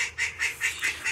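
Domestic ducks honk at night in a quick run of about five nasal calls, fairly close and evenly spaced, with no voices over them.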